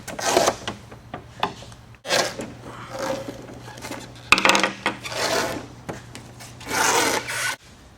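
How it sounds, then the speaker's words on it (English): Old weather strips are pulled and scraped out of a postal LLV truck door, giving loud close rubbing, rasping and tearing bursts with brief knocks and a faint steady hum behind. "Now we have to pull the weather strips out"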